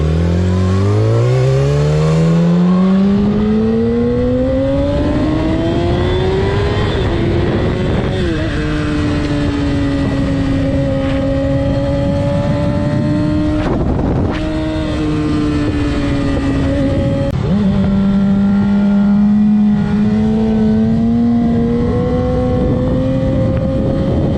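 A Yamaha R6 sport motorcycle fitted with an Ohlins steering damper roars loud and close, its engine revving up and climbing through the gears in long rising pulls, with brief dips between shifts.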